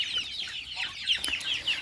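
Young backyard chickens cluck and peep in a soft, busy chorus of short, repeated calls, close and moderately quiet, with no voices over them.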